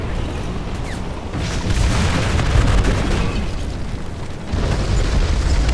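Ammunition cooks off inside a tank hit in the War Thunder video game, a loud, sustained roaring explosion with a deep rumble that swells, dips briefly and surges again without speech.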